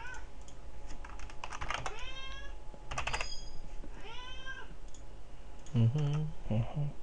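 An old, deaf and partly blind cat lets out a few loud, drawn-out meows close by, mixed with computer keyboard typing and clicking in a quiet room.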